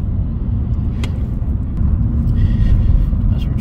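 A car drives along a road past rows of houses in the Jordanstown and Monkstown area of Northern Ireland, its steady low engine and tyre rumble heard from inside, continuous and fairly loud, with a few faint clicks above it.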